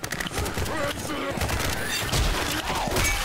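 Gunfire in the video game Left 4 Dead 2, a dense, rapid string of shots crackling continuously through a busy, cluttered mix of game noise.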